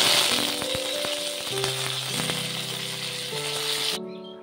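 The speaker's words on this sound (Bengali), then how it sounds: "তেল গরম হয়ে গেছে, এবার এর মধ্যে হাফ চা চামচ গোটা জিরে দিয়ে দেবো আর 2টো শুকনো লঙ্কা, 2টো তেজপাতা আর সামান্য কটা কারি পাতা" Whole cumin seeds, two dried red chilies, two bay leaves and a few curry leaves sizzle steadily in hot oil, a close, continuous crackling fry without pause and with no voices, for a lentil dal cooked without onion or garlic.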